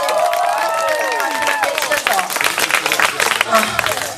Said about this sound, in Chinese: 给自己的掌声鼓励